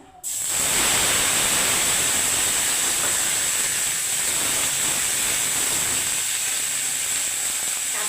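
Dried chili halves and three bay leaves frying in hot mustard oil, a loud steady close sizzle and hiss that starts abruptly and holds evenly to the end.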